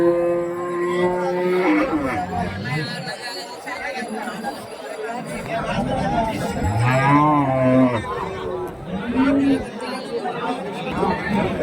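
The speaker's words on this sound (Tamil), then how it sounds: "இதெல்லாம் மாடு கன்றோட தான் இருக்கு." Cows and calves moo loudly and repeatedly over a steady hubbub of crowd chatter at the Karimangalam cattle market in Dharmapuri, Tamil Nadu, with several animals calling near and far.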